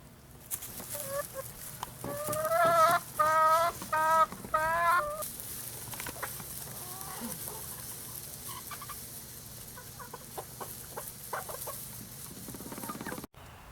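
Chickens cluck as they come out of a newly renovated chicken house, with a lively run of close clucks early on. The clucks then fade into quieter rustling and scattered soft calls.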